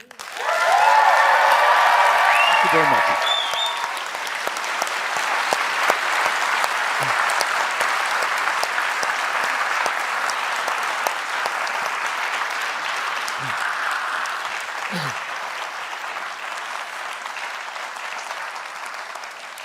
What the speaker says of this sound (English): please give the applause he deserves